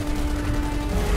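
Gunfire in the video game Gears of War 2, a dense, loud stream of shots blurring into continuous rattling for about a second, heard alone.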